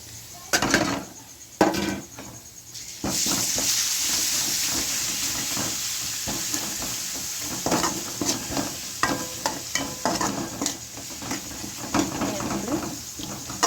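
Crushed garlic and ginger hit hot oil in a pan of browned onions, giving a steady loud sizzle with bursts of spatula stirring and scraping against the pan, alone without talk.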